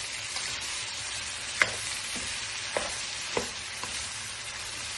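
Eggplant sautéing with pork, tomato, garlic and onion in a pan, a steady close sizzle broken by a few sharp spatula scrapes and clacks as the mixture is stirred, with no talking.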